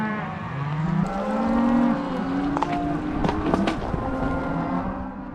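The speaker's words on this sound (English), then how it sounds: "going to hold them while Corey and Jenny Lee went back up the hill to get the rest of the cattle." Cattle moo during a Montana cattle drive, sending out long, low, drawn-out calls that overlap across the herd, loud and near, over a steady rumbling background with brief clatters and no speech.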